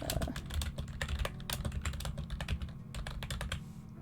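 Rapid computer keyboard typing with dense clattering keystrokes, soft and steady throughout, over a low background hum during a game session.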